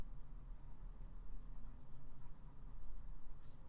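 A vintage Pelikan 400NN fountain pen with a 14-karat medium nib, inked with purple Diamine ink, writes steadily across paper, giving a soft, continuous scratch-and-rub sound that stays quiet and close with no voices.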